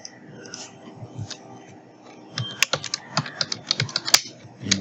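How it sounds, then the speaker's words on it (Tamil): Typing on a computer keyboard: soft, sparse clicks at first, then a quick run of crisp, close keystrokes in an irregular rhythm over a low background murmur. "அதையும் நம்ம டைப் பண்ணிவிடுவோம்."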